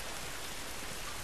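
Steady rain falls in the video game The Last of Us, a dense, even hiss of drops filling the whole moment without pause or voices.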